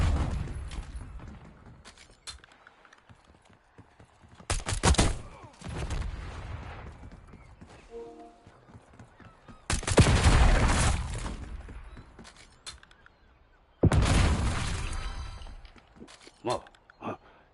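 Video game gunfire in sharp, loud bursts, a volley of shots followed by quieter gaps, then more heavy rapid fire later, with occasional voices in between.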